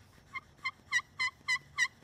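A handheld turkey call, scratched or struck to mimic a gobbling wild turkey while scouting for Osceola turkeys in a swamp, gives six short, evenly spaced, raspy yelps, close and fairly loud, with no talk.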